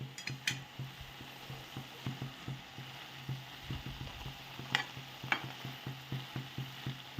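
Food is stirred in a pan with a spoon, giving steady repeated scraping strokes in a regular rhythm, close and moderately loud, with a few sharper clinks of metal and no talking.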